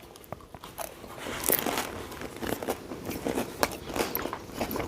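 Crisp egg brick pastry (feuille de brick wrapped around egg) bitten into, giving a run of close, dry crunches and crackles over about five seconds, with no talking.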